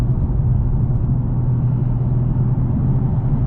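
A 2020 Nissan 370Z Nismo engine pulls steadily from about 2,500 RPM at 30 mph, a continuous low, dense drone with road rumble that stays loud and even throughout, with no talk over it.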